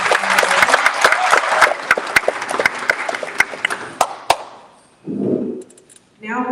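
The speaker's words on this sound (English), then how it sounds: "I would like you guys to give a round of applause for" A burst of audience applause at a financial summit, with sharp individual claps, loud and dense for about five seconds, then fading as a voice begins speaking.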